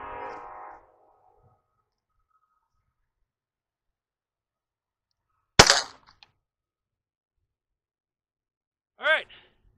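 A single sharp .25 caliber pistol shot fired through a chronograph, loud and close, preceded by a brief voice and followed several seconds later by a short electronic beep in otherwise quiet surroundings.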